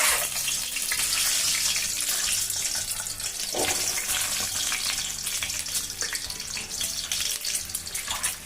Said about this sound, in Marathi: तेल आपलं गरम झालं, तेलात अंड्याचे फ्राय करून घ्यायचं आपल्याला।